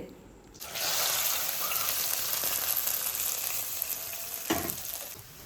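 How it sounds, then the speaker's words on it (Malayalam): Loud, steady sizzling as raisins are added to browned cashews frying in hot oil, with occasional stirring scrapes and a brief dip before the crackle resumes. "ക്യാഷ്നട്ടൊക്കെ നല്ല ബ്രൗൺ കളറായി വന്നപ്പോൾ അതിലേക്ക് ഇതാ കിസ്മിസ് ഇട്ട് കൊടുക്കുന്നുണ്ട്"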